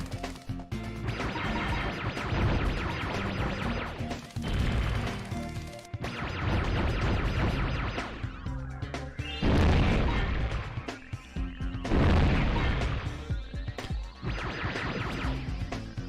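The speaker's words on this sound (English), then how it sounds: "this one, I guess I can show this off, is kind of like a ricochet shot" Repeated ricochet shots from a weapon in Spyro 3: Year of the Dragon strike and bounce off objects, producing loud crashing impacts and bursts in several clusters over game music.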